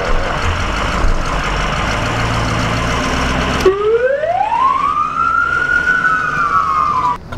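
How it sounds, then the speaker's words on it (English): A loud emergency vehicle siren starts abruptly partway through, sweeping upward and then holding a wailing tone, preceded by a steady broadband noise; no talking. "Where's the siren at?"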